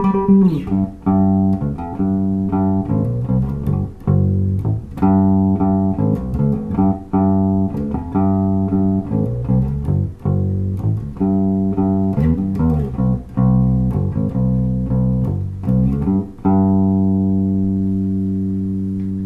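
An electric bass guitar plays a busy line, quick notes flowing up and down from a high G, steady and loud throughout with no voices, ending on a sustained ringing note.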